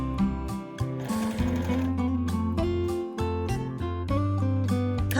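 A sewing machine basts a quilted onigiri-shaped pouch at a 3 mm seam allowance, running in short close bursts with brief pauses between stitch runs and no talking.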